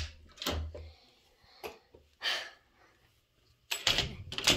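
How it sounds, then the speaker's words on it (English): A door opens in a room with a few soft clunks and rustles spaced over several seconds, followed by a louder cluster of handling noise near the end, all fairly close and quiet with no talk. "Open up my door."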